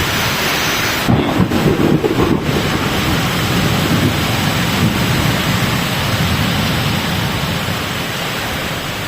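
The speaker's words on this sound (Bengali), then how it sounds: "এই ঝড় বৃষ্টির কারণে, দেখেন ঝড় বৃষ্টি প্লাস নদীর ঢেউ" A fierce storm beside a river: loud, continuous roar of wind and heavy rain with river waves washing in, rumbling gusts swelling early on, close and unbroken, no voices.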